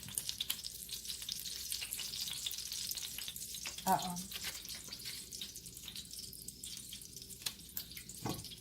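Bacon sizzles in the oven of a retro 3-in-1 breakfast station, a faint, continuous crackling fry with scattered pops and drips at a steady low level.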